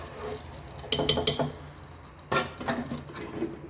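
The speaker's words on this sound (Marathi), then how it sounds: "थोडंसं फिरवून घ्यायचं" Rajma stirred in a pressure cooker with ghee and dried red chillies: two short bursts of spoon-on-metal scraping and clinking, the second a little louder, separated by a quiet pause.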